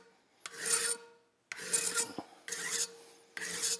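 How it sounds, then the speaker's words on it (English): A hand file rasps across the steel of a Ruger single-action revolver grip frame in four separate strokes, each a close, harsh scraping burst divided by short pauses. "Now anytime you're filing any amount of steel off of anything"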